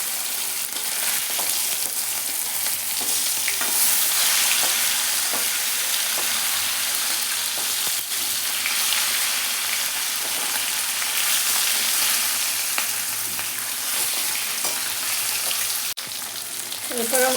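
Pomfret fish fry in hot oil in a wok, giving a loud, continuous crackling sizzle throughout with faint stirring sounds and no clear talk.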